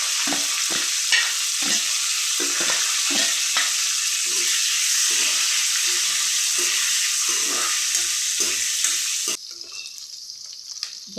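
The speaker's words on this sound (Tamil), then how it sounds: "இப்போ பாருங்கள், வெங்காயம் சவுண்டுகிட்டு" Onions and dried chillies fry in a pan for a Tamil arai keerai kadayal, making a loud, close, steady sizzle with scraping stirs, dropping to a quieter hiss near the end.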